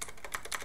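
Quick bursts of computer keyboard typing entering a command into a Windows PC command prompt, several keystrokes in a brisk uneven rhythm, close and fairly quiet, with no voice.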